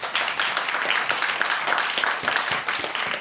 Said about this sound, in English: Can we clap, please?